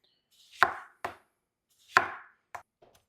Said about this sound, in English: Now the tomatoes. Sharp knife, super important. I like to cut the ends off.